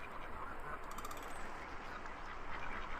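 Ducks quacking in the VR Chat game Udon Bird Sanctuary, a dense continuous chorus of quacks at moderate loudness over a steady background.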